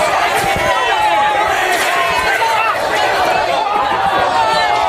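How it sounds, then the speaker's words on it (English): Loud, dense crowd noise outside Madison Square Garden in New York City, with many voices jeering and booing at once, steady throughout and close by. "They're booing law and order"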